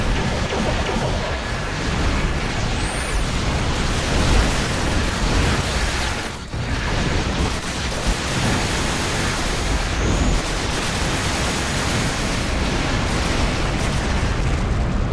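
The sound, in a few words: Arbiter Battlecruiser weapons firing, from video game Star Trek Online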